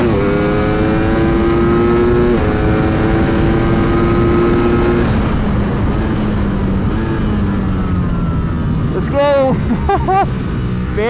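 Ducati Streetfighter V4S ridden hard on a race track, its loud engine screaming in rising and falling harmonic sweeps through gear changes, close and continuous, with a sharp revving burst near the end.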